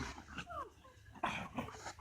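Several pet dogs at a family home whimpering with high whines and a few short yips, fairly faint and close, with no speech.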